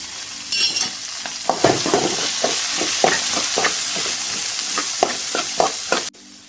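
Vegetables for street-style gobi manchurian sizzle and fry in a hot pan while a spatula stirs them in steady, repeated scraping strokes, loud and close, with a constant hiss underneath, ending abruptly.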